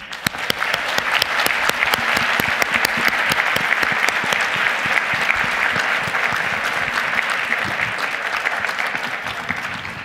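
Loud, dense audience applause for student presenters at a space station STEM education conference session, continuous clapping from a large crowd throughout.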